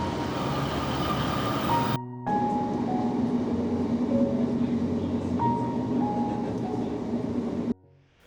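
A passenger train on the Tyne Valley line rumbles along the rails with a steady low roar, faint tonal squeals rising over it, interrupted by two brief cuts.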